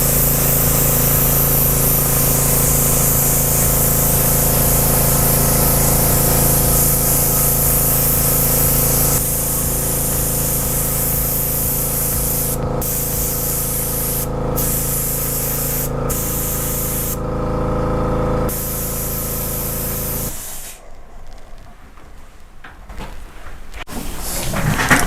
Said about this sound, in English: our airbrushing is complete, and I have the clear coat on